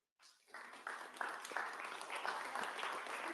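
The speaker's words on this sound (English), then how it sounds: "raise your hands, clap for them." Moderate audience clapping at a Ghana Independence Day gathering starts suddenly and settles into steady applause, heard from a slight distance with a few louder individual claps.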